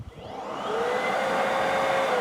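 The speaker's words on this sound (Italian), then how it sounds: "Attacco il mio aspirapolvere." A powerful vacuum cleaner connected to an orbital sander with 120-grit paper spins up and runs steadily and loudly at close range, its whine rising then holding at a constant pitch, with no talk.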